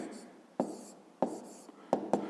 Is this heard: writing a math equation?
yes